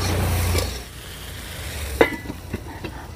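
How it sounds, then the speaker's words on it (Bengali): Taro stolons (kochur loti) frying slowly over low heat in a pan give a soft, steady sizzle, with a few light stirring scrapes and clinks toward the end. "কচুরলতিগুলো আমি ধীরে ধীরে জাল দেবো আর ভেজে নেব আস্তে আস্তে করে।"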